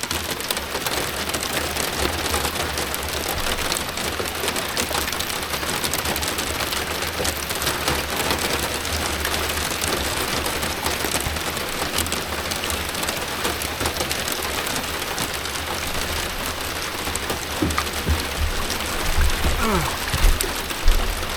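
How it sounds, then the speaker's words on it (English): Rain falling steadily on the water around a small boat with motor trouble, a dense continuous hiss of drops that stays even throughout, with a few slightly louder patters near the end. "Raining."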